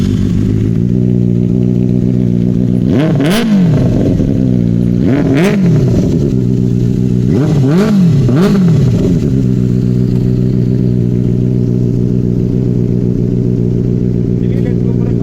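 Benelli 600i motorcycle fitted with an Exhaust X55 exhaust idling loudly nearby, then revved in four sharp throttle blips that rise and fall back to a steady deep idle.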